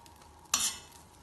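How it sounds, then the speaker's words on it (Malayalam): Halved bread buns hit melted butter in a pan and let out one short burst of sizzling, close and clear, that fades back to a quiet kitchen hum. "മുറിച്ച ബണ്ണ് ഇവിടെ വെച്ച് ഫ്രൈ ചെയ്യാം."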